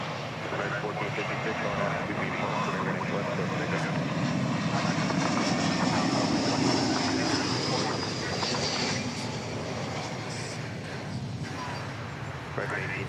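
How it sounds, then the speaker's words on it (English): An American Airlines Airbus A321 arrives at DFW Airport with a broad, sustained jet roar that swells and holds across the whole stretch, heard at a distance outdoors. "next to arrive is American Flight 1118 going to Oklahoma City in Airbus A321"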